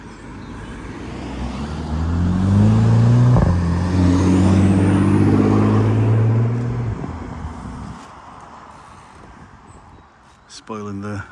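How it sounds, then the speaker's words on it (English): A car or two on Annet Lane, a country road near Low Bradfield in the Peak District, roll past outdoors, engines swelling as they approach then fading away, followed by quiet wind and a brief voice at the end. "Got a few cars coming."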